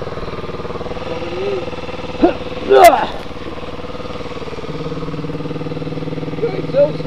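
A Kawasaki KLX dirt bike engine idles with a steady low rumble, briefly revving up in a short burst partway through; a voice speaks faintly over it.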